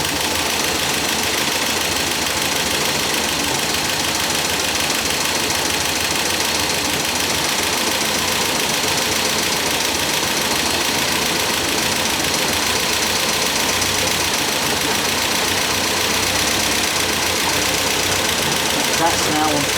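Steady, continuous idle of an MGB Roadster engine, its twin carburetors being balanced, a close and even mechanical chug that holds unchanged throughout without revving.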